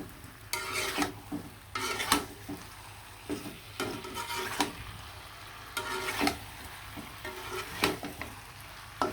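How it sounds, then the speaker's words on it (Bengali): Fried chicken pieces stirred into sizzling masala in a pan, with repeated scraping spoon strokes in an uneven rhythm over a continuous close sizzle. "সুন্দরভাবে কিন্তু মশলার সাথে আমি মাংসটা মিশিয়ে নিলাম"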